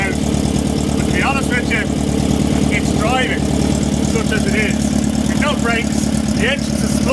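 A 1974 VW Beetle engine runs rough and spluttery at a steady idle, up close and loud, with repeated uneven chirps and pops riding over the drone and a voice talking over it.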